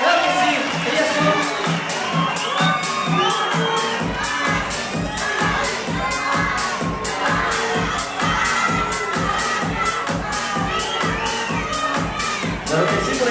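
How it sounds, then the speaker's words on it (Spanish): A pageant audience cheers the contestants in a lively crowd, with shouts, whoops and children's cries over steady clapping and a pulsing music beat that kicks in early and runs throughout. "¡Fuertes los aplausos para todas ellas!"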